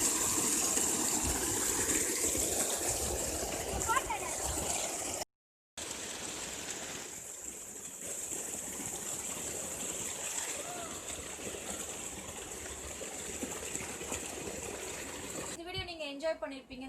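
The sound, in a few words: waterfall gushing water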